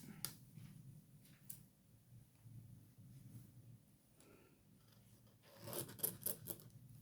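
Scissors snip through fabric while rounding the corners of a beginner-sewing placemat, a few faint, close rasping cuts in a quiet room, ending in a brief louder flurry of snips.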